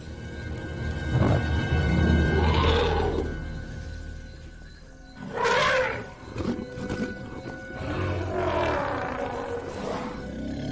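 Hungry lions growl and roar at night close to a herd of elephants, deep rumbling calls rising in several separate bursts over a low, continuous background.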